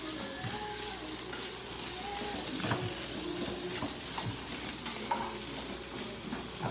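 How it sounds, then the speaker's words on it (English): Cabbage sautés in a pan with rice, a steady close sizzle and frying hiss with soft stirring scrapes and small pops throughout, no voices. "letting this saute"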